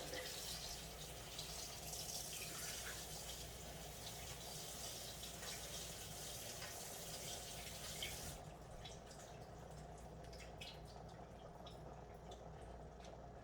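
Liquid strains out of cooked taco soup ingredients as a faint, steady watery trickle with light drips, quieter after the first several seconds.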